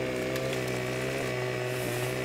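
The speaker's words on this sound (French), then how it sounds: "Tronçonneuse Husqvarna, matériel de professionnel." A Husqvarna chainsaw cutting into a tree in Farming Simulator 15 drones at a steady high-revving pitch, loud and continuous with slight shifts in tone as it bites, and no voices.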